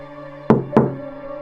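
Two sharp knocks on a door, about a quarter second apart, loud and close over a low steady hum, with no voices.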